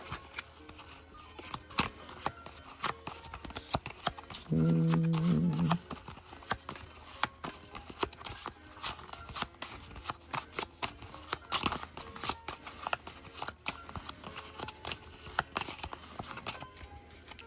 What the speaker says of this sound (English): now let's go ahead and shuffle these names up.